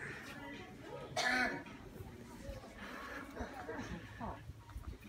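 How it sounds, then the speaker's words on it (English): A person coughs once, loud and close, in a Home Bargains store during a game of hide and seek, with faint chatter and store noise around it. "I can hear you coughing"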